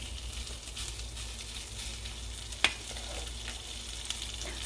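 Mixed kimchi rice spread in a pan over very low heat sizzles softly and steadily, with one sharp click near the middle and a faint tap later, no talking.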